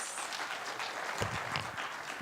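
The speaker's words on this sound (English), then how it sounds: "Let's give him another round of applause." An audience claps at the launch of a university research week, a steady, moderately loud patter of many hands with no voices over it.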